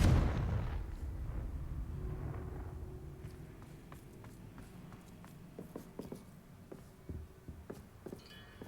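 A Confringo spell explosion in Hogwarts Legacy opens with a loud, low blast that rumbles and fades over about a second. Scattered sharp impacts and softer crackles follow it on a steady background.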